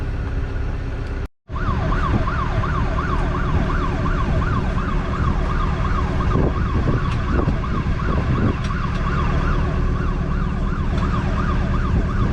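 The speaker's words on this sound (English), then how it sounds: "he always forgets to turn off his anchor alarm, so yeah, it's going off now" An electronic boat anchor alarm wails continuously, a rising and falling warble that repeats steadily, with a brief dropout near the start.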